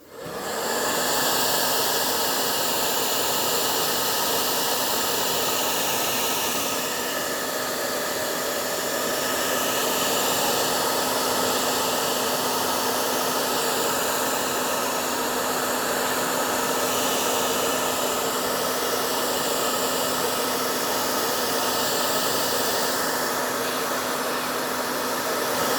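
A heat gun runs steadily for the whole stretch, blowing hot air onto a cracked plastic torso with a loud, even whooshing hiss and a faint constant hum beneath it.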